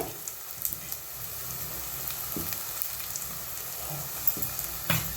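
Ginger paste frying in a pan with curry leaves and green chillies: a steady sizzle close by, broken by a few light clinks and scrapes of a spoon.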